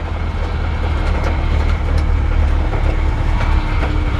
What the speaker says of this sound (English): there's a little bit of a power steering grind sound there, or like whine whir